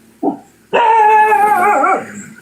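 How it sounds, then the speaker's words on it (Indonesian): A dog close by gives one short bark, then after a brief pause lets out a long, loud, drawn-out bark that wavers in pitch before breaking off. No one speaks. "Ini si Edis ngapain gonggong terus sih?"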